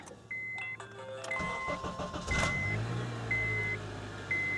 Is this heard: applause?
no